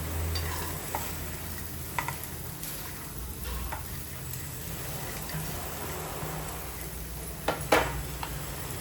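Vegetables for crispy corn fry on a high flame while being stirred, making a soft ongoing sizzle broken by irregular spoon scrapes and knocks against the pan, and one louder clatter near the end.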